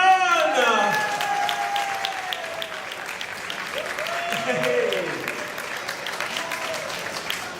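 At the Paris Manga & Sci-Fi Show, a convention crowd applauds a guest. Strong, continuous clapping fills the hall while an announcer's amplified voice speaks over it in stretches.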